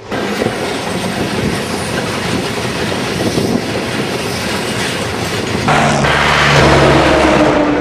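A train running through forest in the Gorumara area of the Dooars, its loud continuous rumble and clickety-clack close by, growing heavier with a low tonal drone near the end.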